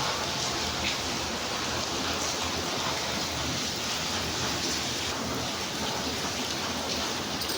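Heavy monsoon rain pours down steadily, a dense, unbroken hiss of drops striking surfaces nearby, with no voices or breaks throughout.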